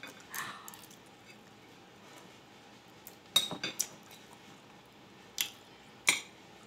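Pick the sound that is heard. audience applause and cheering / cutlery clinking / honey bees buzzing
cutlery clinking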